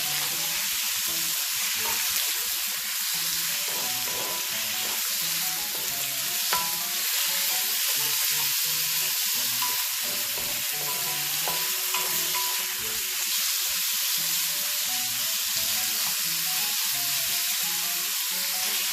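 Beef frying in oil with caramelized onions while being stirred, a steady close sizzle with frequent scraping stir sounds running throughout, no talking.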